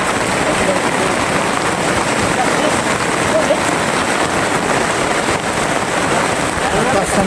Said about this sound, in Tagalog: nakita na naman kami ng ulan